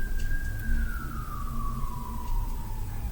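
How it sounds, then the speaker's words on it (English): A siren wails outside, its tone sliding slowly downward, heard at a moderate distance over low background rumble. "There's sirens in the background."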